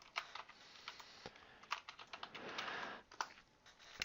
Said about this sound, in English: Now I hit carriage return.